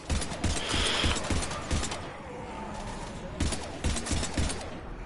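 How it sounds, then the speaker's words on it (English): Heavy rapid gunfire in the Mass Effect game, bursts of loud shots clattering in quick volleys with brief lulls between them, mixed with mechanical clanks and faint voices. "we're taking heavy fire"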